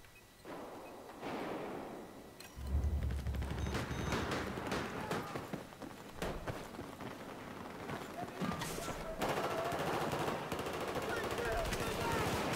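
Rapid machine gun fire in a first-person shooter video game, with sustained bursts of gunshots rattling over a dense game soundscape, fairly loud and continuous from start to finish.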